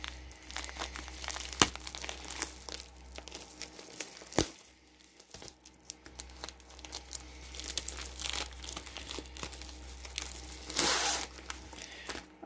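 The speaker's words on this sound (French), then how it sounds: "On va ouvrir ensuite une toile." Plastic packaging around a diamond painting canvas crinkles and rustles as it is opened, irregular close crackles and tearing bursts over twelve seconds with no talking.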